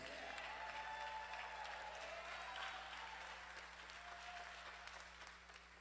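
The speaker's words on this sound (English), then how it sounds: "So let's give a warm round of applause to Reverend Dr. Jeanette Wilson." Audience applause at a Saturday morning forum honouring Reverend Dr. Jeanette Wilson, a faint, distant wash of steady clapping that holds for several seconds and then thins slightly toward the end.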